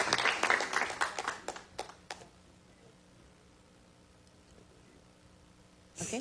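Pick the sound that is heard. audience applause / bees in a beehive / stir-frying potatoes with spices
audience applause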